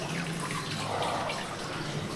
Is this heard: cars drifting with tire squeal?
no